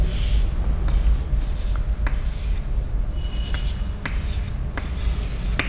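Writing on a board in a chemistry lecture room: repeated short scratchy strokes and taps, close and distinct, over a constant low room hum.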